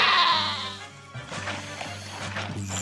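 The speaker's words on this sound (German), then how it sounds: "Komm du Schaf, geh mal da weg." Sheep bleat in the city-building game Caesar III, a few loud, close bleats with a constant low tone running beneath them.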